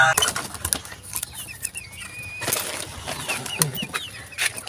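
Chickens cluck and chirp intermittently nearby, with scattered bird calls and brief wing flaps in the background.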